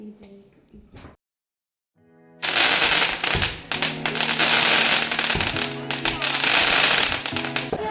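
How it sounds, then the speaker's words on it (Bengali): After a short silence, dense rapid firecracker bursts and crackling fireworks erupt loudly and continue at an Eid function, with tonal sounds and voices faintly underneath. "তো আমাদের অনুষ্ঠানটা সূচনায় হয়েছিল আতশবাজি দিয়ে।"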